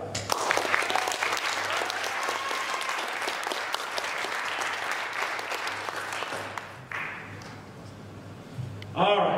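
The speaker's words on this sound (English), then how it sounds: "would everybody give a huge round of applause for some of our finalists" Audience applause for geography bee finalists leaving the stage, a dense burst of clapping that thins out partway through and drops to quiet room noise before a brief sound near the end.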